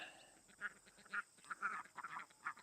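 Ducks quack in short repeated calls behind a chicken coop in an orchard, at a moderate distance. The calls come in irregular bursts over a steady background hum.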